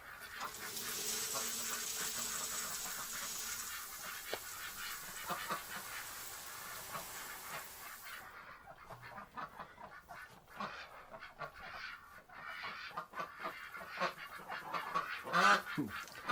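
Ducks and other fowl quack and honk nearby in a barn, a busy overlapping chorus of calls that grows choppier and louder toward the end.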